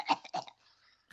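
A person recovering from a month-long illness gives two quick, close coughs in a row, then a faint breathy rasp and a short final sound.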